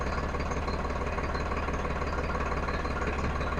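A Farmtrac 60 4x4 tractor with a 55 HP engine runs steadily, its dense, even mechanical rumble and faint knocking continuous and unbroken, close by with no one talking.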